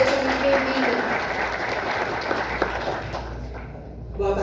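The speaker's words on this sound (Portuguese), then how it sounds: "Peço uma salva de palmas à doutora Suene." Applause from an audience welcoming a lawyer to the stage at a talk, a few seconds of steady group clapping that thins out, with a brief voice near the end.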